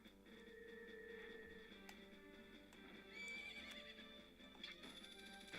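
Horse in the video game The Legend of Zelda: Majora's Mask whinnies with a rising and falling neigh, then hooves clip-clop along with game chimes, fairly loud and without talk.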